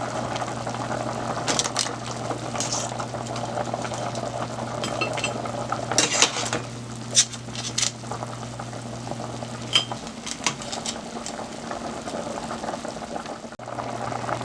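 Crab lifted out of a pot of red palm oil potato greens as it boils, continuous bubbling and simmering with spoon stirring and clattering against the pot, plus a low steady stove hum.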